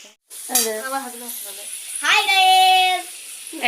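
Tomato sizzling and frying in a pan for chana dal, with loud hissing bursts as it hits the hot oil, close and bright, fading slightly between two strong surges.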